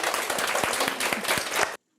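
Students in a classroom, split into teams for a math quiz game, clap together in a dense burst of applause lasting under two seconds before it cuts off abruptly.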